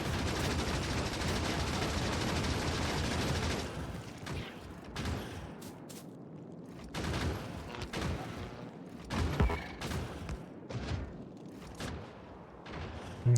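Gun turrets firing in Factorio, a dense rapid fusillade for the first few seconds, then sparser bursts and single shots, fairly loud and without speech.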